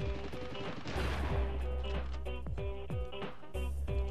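Enemy machine gun and shotgun fire in the video game Army Men Sarge's Heroes 2, a steady series of loud, sharp shots and rapid bursts over a low droning game background, with no one talking.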